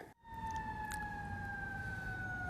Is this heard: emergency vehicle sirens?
yes